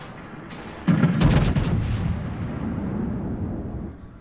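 A main gun salvo from the Sharnhorst, a German tier 7 premium battleship in World of Warships, erupts as one heavy, loud boom that rumbles on and slowly fades, with no talk over it.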